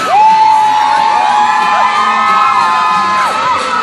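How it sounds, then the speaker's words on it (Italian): Crowd of fans at a shopping mall screaming and cheering loudly and continuously, with shrill whoops and shouts rising over a dense roar throughout. "noi ci prendiamo tutte le urla"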